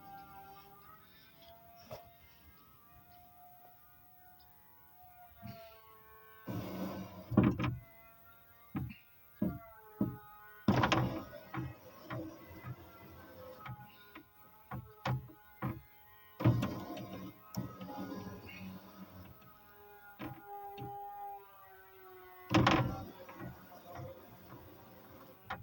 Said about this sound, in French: Test du lève-vitre électrique avant gauche de la 306 avant la vente.